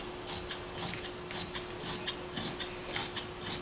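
Scissors snip through fabric being cut for a skirt, close-up in a steady series of rasping cuts about twice a second over a faint constant hum.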